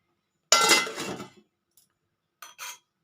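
A metal lid set onto a cooking pot of beans, giving one sharp clanging clink that rings briefly, followed a second later by two softer taps, close and clear in an otherwise quiet kitchen.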